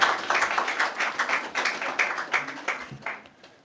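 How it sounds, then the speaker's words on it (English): A round of applause from the audience at a health programme keynote, distinct claps rising in a brisk patter and gradually thinning and fading out toward the end. "A round of applause."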